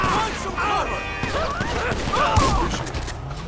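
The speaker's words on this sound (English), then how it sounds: "This other guy that they're shooting." Gunfire in GTA V with the LSPDFR police mod, a rapid burst of shots that runs under steady talk across the whole stretch.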